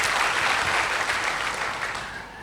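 Congregation clapping for Jesus during a Sunday church service, a dense, steady wash of applause that holds strong and then gently thins toward the end, with no voices over it.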